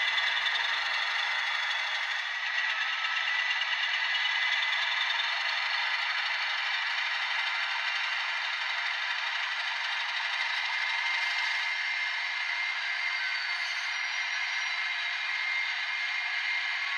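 Atlas N scale Alco S-4 Gold Series model locomotive idling with its sound decoder at speed step 7, giving a steady, quiet, even hum and rattle that runs unbroken and alone throughout.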